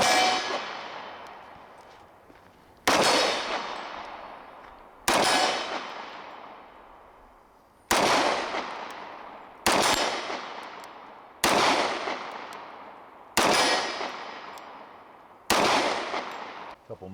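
Pistol shots from a Dan Wesson Vigil Commander fired at about 31 yards, seven loud sharp cracks spaced a couple of seconds apart, each ringing out with a metallic clang and decaying tail, no voices.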